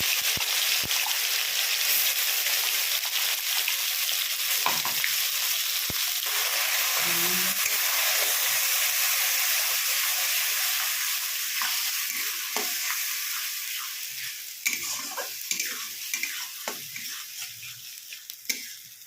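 Whole spices sizzle and crackle in hot oil for dhaba-style dum aloo, a steady bright frying hiss with occasional stirring scrapes and small pops, easing off and turning more spattery toward the end.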